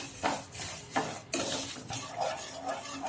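A spoon stirs sugar and water in a wok over a medium flame for peanut burfi syrup, with repeated scraping strokes against the metal about every half second, close and clear.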